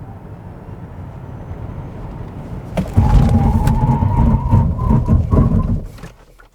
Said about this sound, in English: why don't we check out the braking performance of this IONIQ 5 then